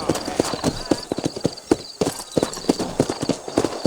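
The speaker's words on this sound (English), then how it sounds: "let's mount up and hit the trail. Take it slow on the way out of town." In the Red Dead Redemption video game, a horse's hooves clip-clop at a steady walking pace on a dirt trail out of town. The beats are close and distinct, with some background sound.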